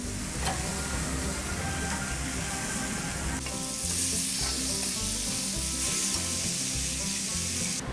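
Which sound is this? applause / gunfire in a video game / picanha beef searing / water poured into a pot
picanha beef searing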